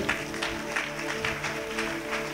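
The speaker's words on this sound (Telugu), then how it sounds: "గట్టిగా చప్పట్లు కొట్టు" An audience claps at a Telugu Christian prayer meeting. The applause is steady, moderate and close, with rhythmic pulses over a sustained tonal background and faint voices.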